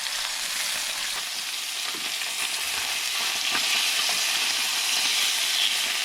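Catfish fillets fry in hot oil in a pan for a zucchini noodle dish, giving a steady, close, loud sizzle and hiss with faint crackles throughout and no talking.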